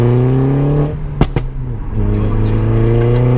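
A Mini John Cooper Works car engine revs loudly and steadily, with two sharp exhaust pops in the middle as the pitch dips before climbing again.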